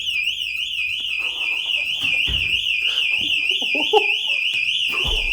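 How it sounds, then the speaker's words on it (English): A store anti-theft buzzer at the exit blares a loud, continuous warbling electronic tone throughout, while people talk and move beneath it. "the feeling of leaving a store and the buzzer buzzing"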